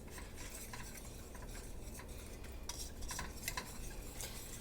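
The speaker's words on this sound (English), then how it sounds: "I'm going to take my whisk and start whisking" A whisk stirs a homemade play dough mixture in a pot, producing a steady, close scraping and swishing with light metallic clinks that continue without pause and with no voices.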